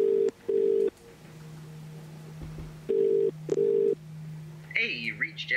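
An outgoing phone call rings on the line: two short ring tones, a pause with a low steady hum, then two more rings, before a voice starts to speak.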